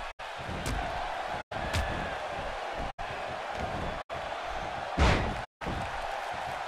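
Heavy body slam impacts in the WWE 2K16 wrestling video game, several loud thuds separated by abrupt cuts, with crowd noise beneath.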